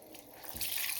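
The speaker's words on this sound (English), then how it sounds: "just rinse off my makeup wipe" Warm tap water runs at a sink while a makeup wipe is rinsed under it, a soft close splashing that swells louder and brighter in the second half of the short burst.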